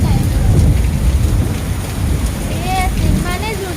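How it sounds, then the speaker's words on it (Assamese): Heavy rain pours down in a park in Guwahati, a loud, dense, continuous hiss with deep rumbling undertones and a few faint whistling tones in the background. "ইমানেই জোৰকৈ মানে বৰষুণ দিছে"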